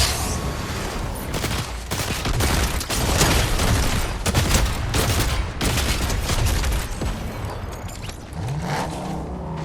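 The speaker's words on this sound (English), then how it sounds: "So there, the grenade launcher is effective" Grenade launcher firing in a video game, delivering a rapid run of loud booming blasts and bursts of gunfire that continue almost without a break before easing slightly near the end.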